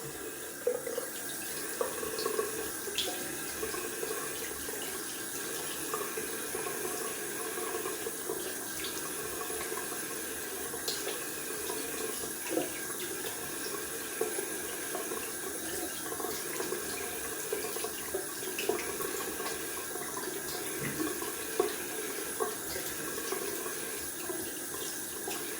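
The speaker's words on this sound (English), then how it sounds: "Gonna rinse off with cold water." A tap runs cold water into a sink for rinsing during a wet shave, a steady, soft continuous splash and gurgle with faint intermittent clinks throughout.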